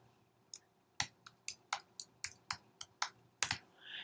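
Keystrokes on a computer keyboard as a password is entered, about a dozen crisp clicks in an uneven rhythm, close and fairly quiet, with no voices.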